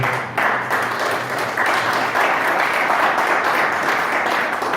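A congregation at a church seminar applauding, a dense, loud wash of clapping that holds steady for several seconds without a break.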